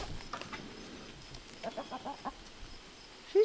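A hen clucks in short, rhythmic bursts while pecking at cheese near water pails in a farmyard coop, fairly close and moderately loud, with a sharper call at the very end.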